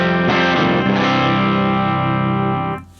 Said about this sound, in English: without the Lucent drive, it sounds like this.